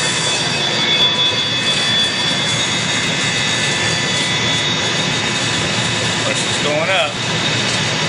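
A building water pump motor running on a variable frequency drive gives a loud, steady whine and roar with a tonal hum, heard close and continuous, with a dip near the end.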